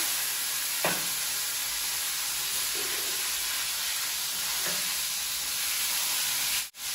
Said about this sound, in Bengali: তো আমি ফুলকপিগুলো ভাজা বসিয়েছি।